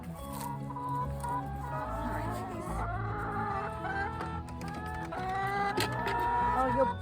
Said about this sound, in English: I don't like being pecked at by chickens.